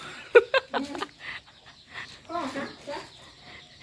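Domestic chickens and ducks cluck and murmur in a rural yard, with several short, close, uneven calls in the first second and softer scattered clucks after it, under quiet background voices.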